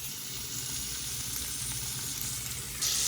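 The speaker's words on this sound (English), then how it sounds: "Let them cook right in that butter," Chunks of lobster sizzle steadily in melted butter in a pan, a close, even frying hiss running throughout with a slight rise at the very end.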